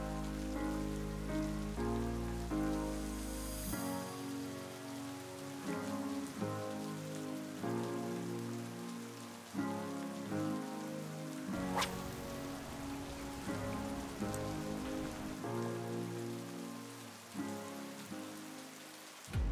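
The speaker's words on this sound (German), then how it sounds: "wir warten jetzt den Regen ab" Rain falls on a canal during a perch fishing trip, a steady, soft patter of drops that continues throughout beneath tonal background music.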